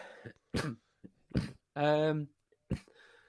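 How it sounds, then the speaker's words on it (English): Several short, harsh coughs in separate bursts, close to the microphone, with a longer rasping throat sound in the middle. "This cough is really really kicking my ass today."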